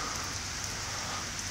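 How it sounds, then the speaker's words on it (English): Rain falls in a constant, even hiss, moderately loud and uninterrupted, with no speech. "Just waiting for this rain to stop raining."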